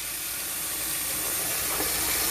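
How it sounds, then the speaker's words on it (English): Steady, close rushing hiss of tap water running into a bowl of spaghetti in a home kitchen, continuous and even throughout with no talking. "Fill it with water."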